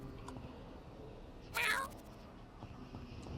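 A cartoonish cat meow from the video game YIIK, one short bright call standing out over a low steady game soundtrack.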